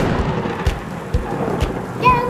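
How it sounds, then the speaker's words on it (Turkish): Rain and thunder effect during a toy picnic play scene: a steady rain-like hiss with several dull thumping rumbles of thunder, fairly loud, with a brief tonal squeak near the end. "Yağmur başladı."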